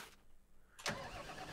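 A farm vehicle's engine in Farming Simulator 22 cranks with a sharp burst, then settles into a steady, loud idle that continues to the end.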